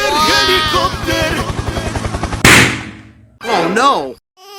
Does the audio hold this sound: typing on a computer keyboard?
no